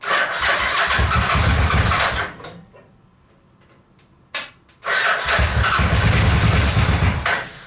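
A Suzuki VX800 engine fitted in a go kart buggy cranks and sputters loudly as it tries to start, dies into near silence with a few faint clicks, then a brief catch before roaring back into another loud cranking run.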